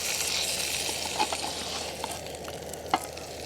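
Sausages sizzling and frying in a titanium mess tin over a camp stove, a steady close hiss with a few soft clicks and taps of a spatula; no talking.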